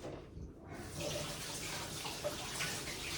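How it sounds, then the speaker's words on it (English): Hands are washed under a running tap during a gardening session, giving a steady close hiss of flowing water that fills the short stretch after a brief quieter start. "Let me just wash my hands."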